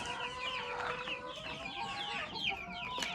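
A Lohmann rooster clucks and calls repeatedly amid a busy chorus of other chickens in a coop, close by and fairly loud, with overlapping bird sounds throughout.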